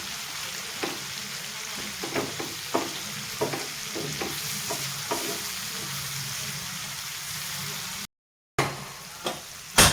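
Eggs fry in a spicy masala in a pan, a steady close sizzle broken by several scraping knocks as a spatula turns them, with a brief cut near the end.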